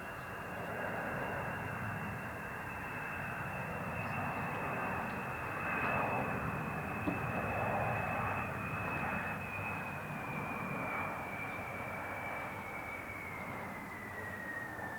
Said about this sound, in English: This is the distinctive sound of the B-52.